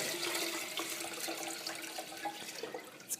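Water pours from a large measuring cup while making homemade dog food, a steady splashing stream lasting a few seconds, close by and with no talking.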